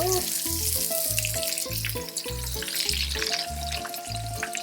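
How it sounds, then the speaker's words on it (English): Breaded Wiener schnitzel fries in a pan of hot fat, with a steady close bubbling sizzle running continuously throughout while music plays along underneath. "You see the panade here is already starting to bubble up"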